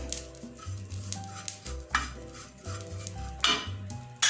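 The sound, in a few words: ajwain and crushed red chilli roasting in a pan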